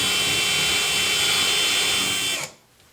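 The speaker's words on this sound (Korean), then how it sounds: "여기를 드릴로 조금 넓혀주는 작업을 하겠습니다" Power drill with a butterfly bit enlarging a hole to fit the hose of a food waste disposer, a loud steady whine held for over two seconds before cutting off abruptly, no talk.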